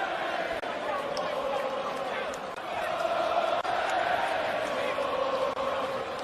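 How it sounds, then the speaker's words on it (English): A boxing arena crowd during a heavyweight bout between Joseph Parker and Derek Chisora, a continuous loud roar of many voices with rising swells and occasional sharp thuds, a commentator talking over it. "And listen to this crowd once again."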